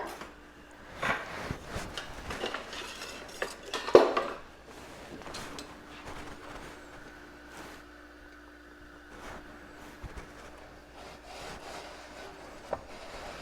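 Bread cubes stirred in olive oil and seasoning in a pan, with soft scraping and rubbing strokes, a few sharper knocks of the utensil against the pan, all quiet and close with a faint hum underneath.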